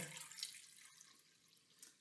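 Water poured from a measuring jug into a bowl makes a continuous faint splashing, trickling stream for about two seconds, alone and close by.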